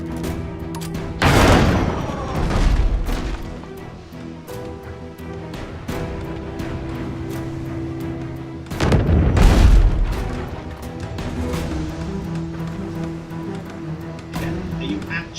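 Ship cannons fire in the naval game Abandon Ship, with two heavy booming volleys several seconds apart over a musical background. A voice talks faintly in between.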